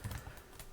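Soft computer keyboard typing, a few quick faint keystrokes at close range with no talking.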